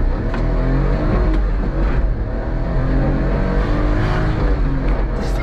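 A Daihatsu Midget kei truck with a stick shift accelerates on a highway, its small engine whirring and revving steadily with wind and road noise, loud and close.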